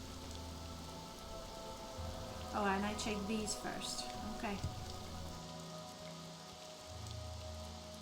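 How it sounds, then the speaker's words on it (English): Steady rain falls in the video game Morrowind, a constant soft hiss of drops on surfaces underneath a man's quiet speech and brief game tones. "it's raining."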